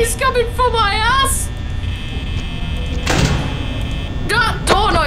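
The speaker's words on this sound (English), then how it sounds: "That door noise just made me jump!" A door in the Five Nights at Freddy's video game gives one sudden, loud mechanical burst midway, surrounded by excited, frightened speech.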